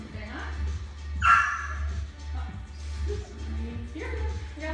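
A dog gives a sharp bark and a few yips and whimpers during an indoor yoga class, heard over an instructor's ongoing talk and a steady low hum.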